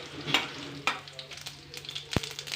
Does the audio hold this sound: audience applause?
no